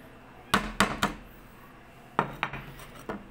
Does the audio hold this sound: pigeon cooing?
no